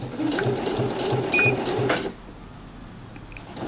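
Sewing machine stitching a seam on a nautical cushion, a loud, rapid mechanical chatter for about two seconds that then stops abruptly, leaving quiet room tone with faint small clicks.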